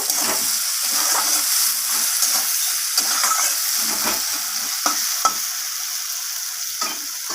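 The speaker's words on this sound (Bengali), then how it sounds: "আমি এখানে পেঁয়াজগুলোকে একটু হালকা বাদামি রং করে পেঁয়াজগুলোকে ভেজে নেব" Onions fry in hot oil until light brown for a rohu fish curry, a loud, continuous crackling sizzle with occasional spoon scrapes and small pops, and no voices over it.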